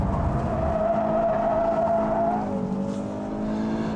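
Audi performance car pushed hard around a test track for a lap time, its engine droning steadily loud with a rising and falling whine and a brief squeal of tyres, no voices.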